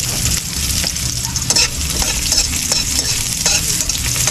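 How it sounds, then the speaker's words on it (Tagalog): Onions sauté in a hot pan, producing a loud, continuous sizzle and crackle with occasional scraping from stirring. "Magigisa po muna tayo. Unahin natin ang sibuyas."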